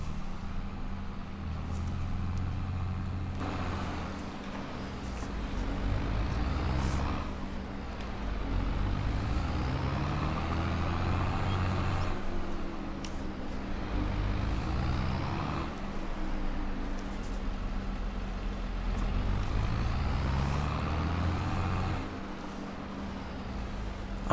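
A tractor engine drones steadily in Farming Simulator 22, a continuous low rumble that rises and falls in repeating cycles as it drives, with no talk over it.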